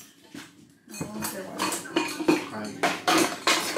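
Pots, pans and cutlery clatter and clink in a home kitchen while albóndigas are being cooked, with irregular metallic knocks and scrapes close by after a quiet opening.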